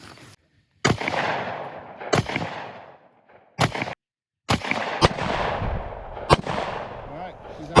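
Gunshots at a steel target ring out as several sharp, loud cracks spaced a second or so apart, each followed by a short decaying ring, with a voice talking between them.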